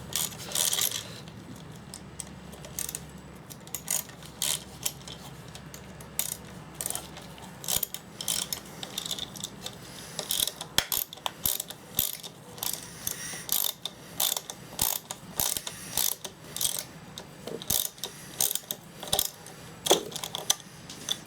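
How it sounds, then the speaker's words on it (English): An Armstrong ratchet works on a Briggs & Stratton 2hp engine, giving rapid metallic clicks in repeated bursts that sound close and fairly loud and keep going throughout. "This is an Armstrong ratchet."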